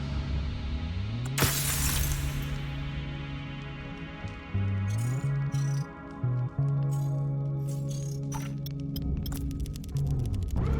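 Reinforced glass shatters in a video game: one loud, sharp crash that bursts out and quickly dies away over steady, droning background music.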